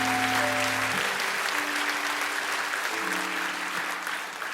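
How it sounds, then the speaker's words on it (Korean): Church congregation clapping to honor its elders, a broad sustained round of applause that stays full and even, with sustained organ or keyboard tones underneath at the start. "우리 장로님들 모두를 이 시간 한번 큰 박수로 축복해 주시기 바랍니다"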